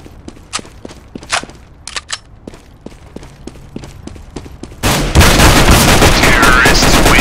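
Counter-Strike gameplay gunfire: a run of sharp single shots and footstep-like clicks, followed by a sustained loud burst of rapid fire and blasts filling the last couple of seconds, with faint game voices.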